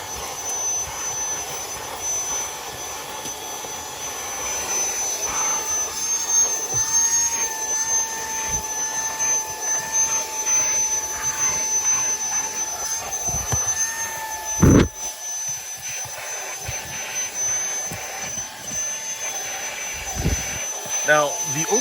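A tiny handheld vacuum cleaner runs with a steady, high motor whine as it sucks up small stones and fallen leaves, with occasional rattles and clicks from debris being pulled in.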